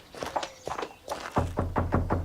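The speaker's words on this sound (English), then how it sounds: "I've never had to knock at a castle door." Knocking on a castle door: a run of dull, heavy wooden thuds, first scattered and then a quicker, louder series of knocks close by, with faint voices underneath.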